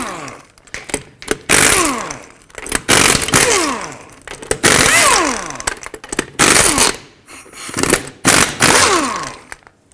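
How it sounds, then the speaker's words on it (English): An impact wrench with a 21mm socket spins off wheel lug nuts in loud, close bursts of whirring and rattling, about six short runs separated by brief pauses. "21mm socket, remove all 5 of your lug nuts"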